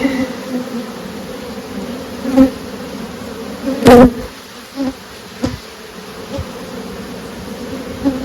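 Honey bees buzzing around frames of nurse bees being added to a small swarm, a dense steady hum close by with a few knocks and clicks.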